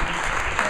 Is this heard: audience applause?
yes